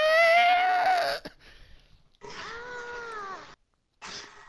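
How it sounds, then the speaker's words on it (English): A pet cat meows loudly and close by in two long, wavering cries separated by a quiet gap, followed by the start of a third call. "That's all you hear out of that cat."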